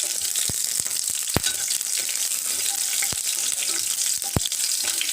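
Fresh green chillies dropped into oil in a pan while cooking an Assamese-style potato dish, a continuous close sizzle broken by several sharp ticks and pops.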